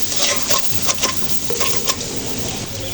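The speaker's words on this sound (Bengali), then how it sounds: "পেঁয়াজগুলো ভালো করে কষে নিতে হবে যেন পেঁয়াজের কাঁচা গন্ধটা যেন না থাকে" Onions with ginger-garlic paste fry and get stirred in a pan for a small fish curry, giving a dense, close sizzle with scraping strokes of the spoon throughout.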